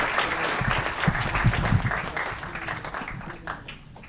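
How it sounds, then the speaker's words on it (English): An audience at a city council meeting applauds steadily, dense clapping that swells slightly and then gradually thins toward the end. "Another round of applause for our IT department"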